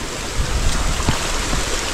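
Heavy rain pours down in a dense, steady hiss with a few louder splashes, close and continuous with nobody speaking.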